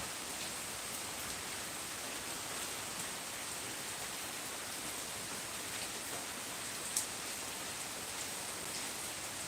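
Heavy monsoon rain falls steadily on a Kerala homestead with banana plants, a dense even hiss with no voices and one small tap near the end.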